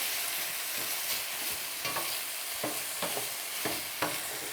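Sausage, peppers, sage and garlic sizzle steadily in a pan while a utensil stirs through them, giving repeated soft scraping knocks over the constant frying hiss, close and quiet.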